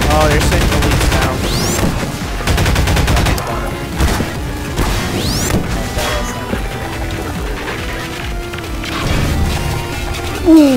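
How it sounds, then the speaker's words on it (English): A grenade blast in a Garry's Mod co-op map amid dense chaotic combat, with loud crashes, gunfire bursts and booms layered over a continuous noisy backdrop. "I literally grabbed your grenade and threw it right at"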